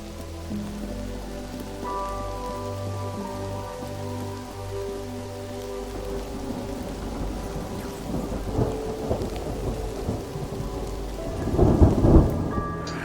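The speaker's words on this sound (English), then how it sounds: "How is the rain dripping all the way through the floor to damage the ritual sigil?" Rain patters steadily in the video game Mind Over Magic, with low thunder rumbling and building to a louder crack near the end, over soft game music.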